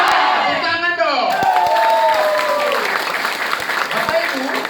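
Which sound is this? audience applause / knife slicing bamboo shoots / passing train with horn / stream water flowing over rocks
audience applause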